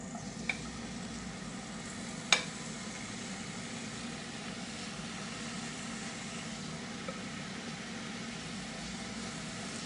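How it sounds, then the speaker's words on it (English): Vegetables including mushrooms sizzle steadily in a hot pan, a low continuous hiss with a brief clatter near the start, no talking. "Going to drop the veggies in."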